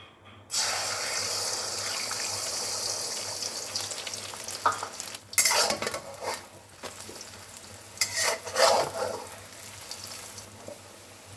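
Beaten eggs poured into hot oil in a pan burst into a loud, bright sizzle that holds steady, then flares in sharper crackling surges as they cook.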